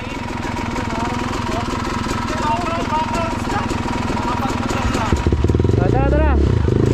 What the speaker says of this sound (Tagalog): Ito yung malalakas oh. Motor.